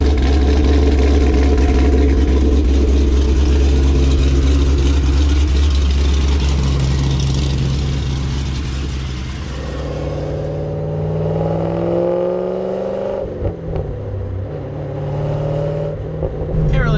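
A cammed C5 Corvette engine loud and close, idling with a lumpy, choppy rumble, then rising and falling through revs before settling back, with brief sharp bursts near the end.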